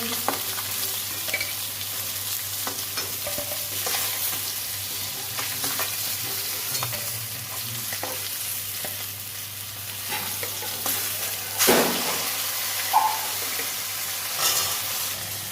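Fish fries in oil with a continuous crackling sizzle, broken by occasional clinks and scraping of a utensil against the pan.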